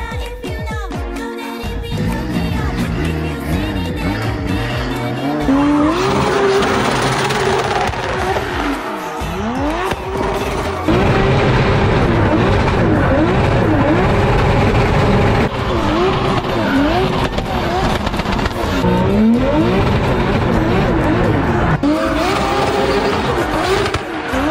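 A car drifting with long tire squeals and a revving engine that rises and falls continuously over about 25 seconds, loud and close, with no talking.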